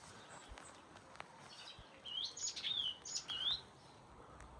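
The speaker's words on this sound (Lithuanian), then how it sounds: "paukščiukai čiulba" Small birds chirp in a quiet countryside garden beside a house near Ukmergė, with a few short, faint, high tweets clustered in the middle over soft outdoor ambience.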